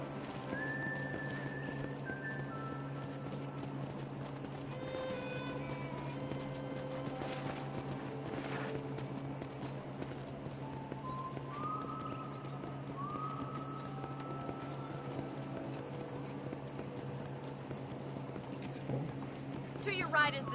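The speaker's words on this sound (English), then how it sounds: "I picked out a fine horse for you." Horse hooves in the Western video game Red Dead Redemption, a faint, steady clip-clop under an ongoing low hum and scattered whistle-like tones, with voices speaking over it.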